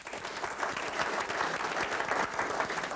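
A comedy club audience clapping their hands, a full, steady burst of applause from a crowd, fairly close and continuous for a few seconds.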